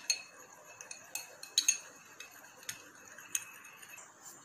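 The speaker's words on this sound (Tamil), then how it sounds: "இப்போ இது எல்லாத்தையுமே நல்லா மிக்ஸ் பண்ணி எடுத்துக்கோங்க." Spoon or utensil clinking and tapping against a bowl while an aloe vera gel hair pack is stirred and mixed, a quiet, irregular series of light ticks under a soft background hiss.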